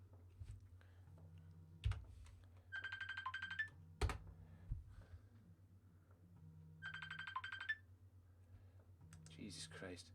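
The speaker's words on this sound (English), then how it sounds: "it's my phone in the background" A mobile phone ringtone plays two short repeated melodic bursts a few seconds apart in the background, with scattered keyboard clicks and low room noise between them.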